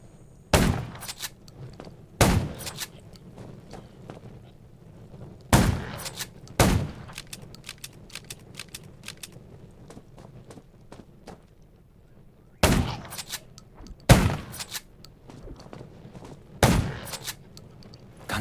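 Bursts of gunfire in the video game Undawn, in short clusters, two or three sharp cracks at a time, separated by quieter gaps over a low steady hum.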